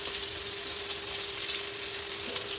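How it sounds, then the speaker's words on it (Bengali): Chopped onion frying in hot oil in a home kitchen pan, a steady soft sizzle with a faint tone underneath and a couple of light clinks of stirring. "দিচ্ছি পেঁয়াজ কুচি, পেঁয়াজটা একটু ভেজে নেব লাল লাল করে।"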